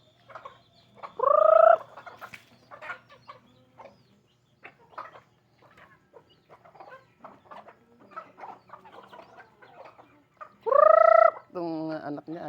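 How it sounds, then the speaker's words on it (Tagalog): Chickens being fed in the morning in a rural province, with two loud, drawn-out fowl calls near the start and end and scattered soft clucks and pecking between, no talking. "Makaon tayo, pakain tayo ng manok."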